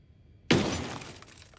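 Bulletproof glass shatters in the video game Ghost Recon Breakpoint: a sudden sharp crash followed by a spray of tinkling fragments fading over about a second, heard alone.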